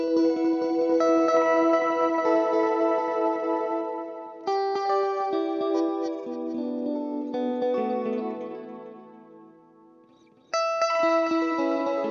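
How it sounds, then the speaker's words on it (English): Guitar notes feed through a GFI Clockworks programmable digital delay pedal, each repeat a perfect fifth higher, building echoing layers that fade out and then return with no talking. "it gives me the delay is a perfect fifth above what I play instead, which is a really trippy sound"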